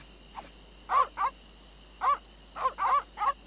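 Aggressive dogs in The Secret of Monkey Island Special Edition let out short, sharp barks in small clusters, several yaps coming in quick pairs and triplets over a faint steady hum.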